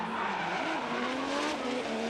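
A Formula Drift car at Okayama, Japan swings into a corner entry during a tandem battle, its engine droning loud and steady with a rising, wavering pitch under continuous screeching tire squeal.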